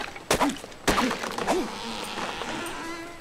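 Chopping a tree for wood in the video game Ark Survival: two sharp close impacts, each followed by short creaking groans of the tree, then quieter creaks fading out.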